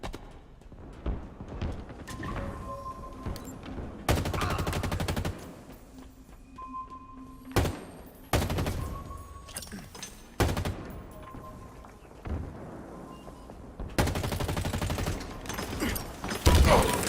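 Weapons fire in Halo Infinite, with loud bursts of rapid automatic shots broken up by single sharp reports and brief lulls. The firing rises and falls in irregular clusters across the whole stretch.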